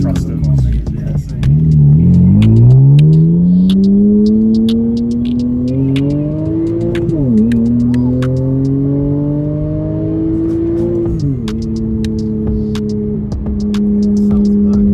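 A tuned widebody Porsche Cayman engine drones loudly and close, rising and falling through gear changes as the car accelerates, with a steady rumble underneath and occasional talk inside the cabin.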